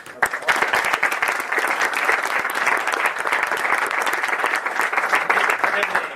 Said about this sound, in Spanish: Otro aplauso para Cristian.